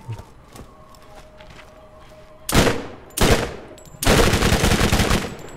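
Rapid automatic gunfire in the video game Borderlands comes in three loud, close bursts of fast shots. Quieter in-game ambience with scattered faint clicks comes before them.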